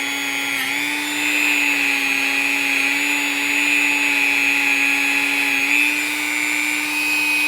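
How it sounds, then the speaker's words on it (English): A power tool polishing the inside of a handmade jaw harp, a steady close whine with a sustained tonal hum that holds evenly throughout, dipping briefly now and then. "Just getting some polish inside there. Polishing away some scratches."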